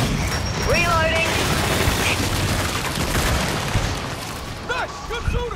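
Dense, continuous gunfire during a horde battle in Gears 5, loud and sustained bursts with booms, with in-game voices shouting over the shooting.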